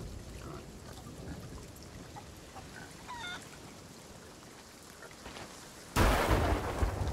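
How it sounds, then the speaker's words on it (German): Steady rain hisses during a storm in the pirate game Sea of Thieves, then a sudden loud lightning strike cracks in near the end and thunder roars on. "Und bin gleich tot, weil ich vom Blitz getroffen wurde."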